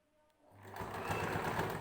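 A sewing machine stitching a long dress starts up and runs steadily, its fast mechanical whirr rising from near silence to a continuous, fairly close hum.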